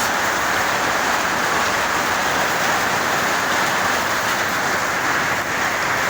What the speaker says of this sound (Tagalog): Kasi bigla nga po umulan.